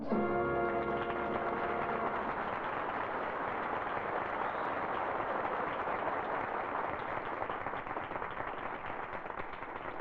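A studio audience applauds to welcome a judging panel on a 1979 Australian contest show, steady dense clapping that carries loud and unbroken from start to finish.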